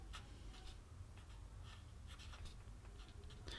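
A black pen writes on paper, with faint, close scratching strokes in short bursts and a quiet background hum.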